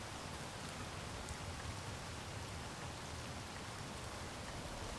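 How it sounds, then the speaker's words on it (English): Steady hiss of rain falling in a Space Engineers survival game, an even wash of patter running unbroken and fairly quiet throughout. "It does sound like rain, but I'm not actually seeing rain."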